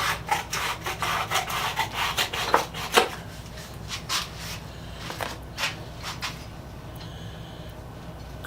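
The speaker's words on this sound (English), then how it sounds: "Cardboard is a lot easier to cut than tin, but I think a little bit of work." Worn, blunt tin shears snip through cardboard in a run of short, rasping cuts, fairly close and alone, the strokes steady at first and then more spaced out toward the end.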